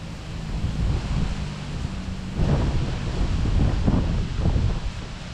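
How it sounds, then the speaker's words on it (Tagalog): Strong wind roars and buffets the microphone steadily in an eggplant field, with gusts swelling midway; no voices. "lakas ng hangin"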